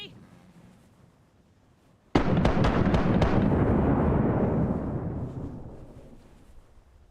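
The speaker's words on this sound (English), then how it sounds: "Started with a 52 cannon ship. Prepare to fire. Broadside." A cannon broadside from a 52-cannon sailing warship in the piracy game Rise of Piracy, a rapid volley of five or six loud booms merging into a long rumbling roar that slowly fades.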